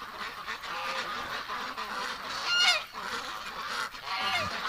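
Winter ducks gathered at a pen quack and honk in a busy, overlapping chorus, close and fairly loud, with one sharp honk standing out midway.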